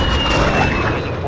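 A recon aircraft flyover in the shooter game Call of Duty: Modern Warfare, a loud, brief roaring engine wash with a thin whine on top, swelling and passing close overhead.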